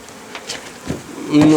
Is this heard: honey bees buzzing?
yes